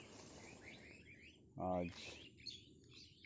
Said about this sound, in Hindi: पक्षियों की आवाज़ आ रही है